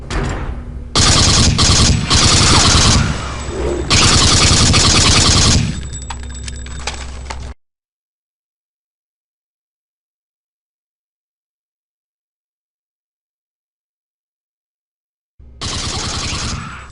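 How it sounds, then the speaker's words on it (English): Shotgun blasts in a Half-Life 1 horror mod, loud heavy bursts of gunfire packed into the first seven seconds, then dead silence before another burst starts near the end. "The shotgun packs quite a punch, but it is not very effective at long range"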